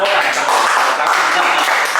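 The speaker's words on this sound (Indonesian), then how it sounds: "Wih, luar biasa. Tepuk tangan." Dense, loud applause from an audience at a business podcast event, a steady wash of clapping with voices mixed in.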